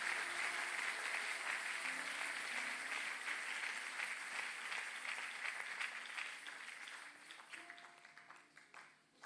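A church congregation applauds steadily, a broad sustained wash of clapping that stays dense and fairly loud before thinning and tapering off toward the end.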